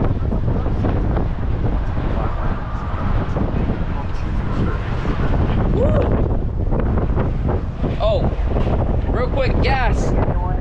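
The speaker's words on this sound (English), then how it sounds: "Oh my God, how windy it is." Strong outdoor wind buffets the microphone with a loud, continuous low roar and rumble throughout, while a voice talks over it.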